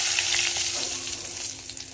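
Turmeric and spices tempering in hot oil, a continuous bright sizzle and crackle, close and fairly loud, heard alone.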